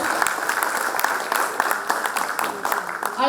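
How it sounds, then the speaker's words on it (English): An audience at a seminar on GST audit gives a warm round of applause, a steady patter of many hands clapping, with a voice starting to speak just at the end. "With a great round of applause"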